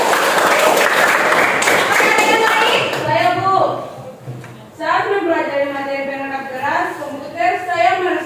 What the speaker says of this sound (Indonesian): Oke, terima kasih, berikan aplaus.